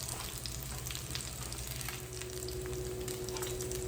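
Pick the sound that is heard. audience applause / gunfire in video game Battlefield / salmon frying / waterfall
salmon frying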